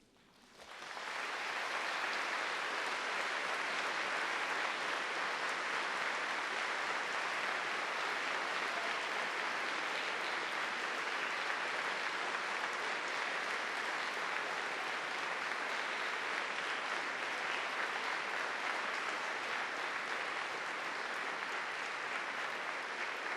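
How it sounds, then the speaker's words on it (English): A large graduation-ceremony crowd at Cardiff University in 2009 bursts into dense, sustained applause that swells within a second and holds steady and loud for over twenty seconds. "giving them an enthusiastic round of applause"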